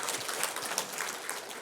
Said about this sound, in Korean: 박수를 치려면 확실하게 치시고 안 치려면 안 치셔야 돼요